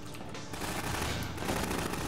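Enemy gunfire aimed at the player in Half-Life 2: Episode Two, a steady rattling stream of rapid shots at moderate loudness with no speech.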